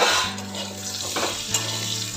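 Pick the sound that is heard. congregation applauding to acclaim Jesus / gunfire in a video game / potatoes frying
potatoes frying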